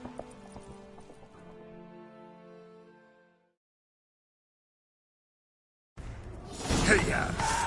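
A horse galloping in the video game Witcher 3 begins after a musical passage and a brief silence. A loud rush of pounding hooves and movement follows, with game sounds layered over it.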